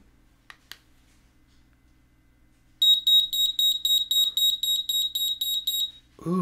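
A Sharper Image key finder lets out a loud, piercing electronic beep like a smoke detector, a rapid pulsing series of about a dozen shrill tones after a couple of soft clicks, cut off abruptly.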